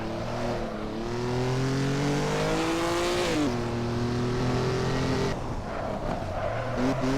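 A 1950s Formula 1 race car in the racing game Assetto Corsa, its engine revving up and down through gear changes with a raspy, sustained roar and a brief dip mid-way.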